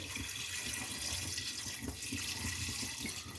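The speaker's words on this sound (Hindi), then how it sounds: "जब इसमें सब्जियां डालें तो साथ ही इसमें पानी डाल दें इसकी यखनी तैयार करने के लिए।" Water poured into a pot of vegetables to make soup stock, a steady splashing, gurgling pour heard close up, continuous for the few seconds.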